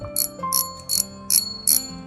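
Drag clicking from a Bullzen Gamer Assassin XLE 2 semi-ultralight fishing reel, held close: four short bursts of bright ratcheting clicks at a steady rhythm, moderately loud with nothing else around them.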